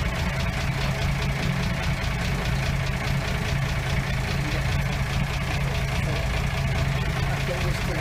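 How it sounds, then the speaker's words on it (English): A Pegaso truck's diesel engine runs steadily with a low, throbbing rumble that stays constant and loud throughout, with a rhythmic mechanical clatter on top. "Yeah, good old diesel, isn't it?"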